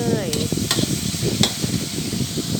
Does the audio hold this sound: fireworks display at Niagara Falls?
no